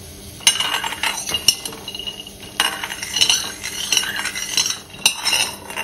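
Almonds roasting dry in a pan while being stirred, irregular clinking and scraping of a utensil against the metal with rattling nuts, close and moderately loud, with brief sharper knocks and no speech.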